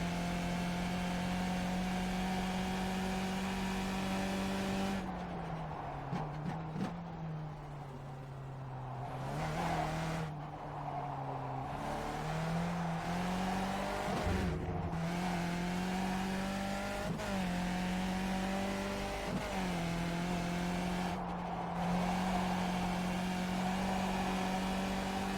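A car engine drones at steady pitch, dips and recovers through several gear changes, with brief lulls and renewed pulls, loud and close without any talk.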